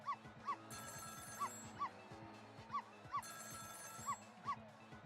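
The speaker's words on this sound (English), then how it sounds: "It was the sound of a telephone ringing, coming from the apartment next door." A telephone rings in repeated paired bursts from an apartment next door in the video game Ghost Trick, with a steady electronic tone bed and a faint musical backdrop underneath.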